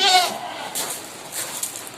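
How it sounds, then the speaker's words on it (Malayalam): A large goat offered for sale at a livestock market gives a single loud, close bleat, followed by faint background voices. "നല്ല നീട്ടും വലുപ്പമുള്ള നല്ലൊരു ആട്"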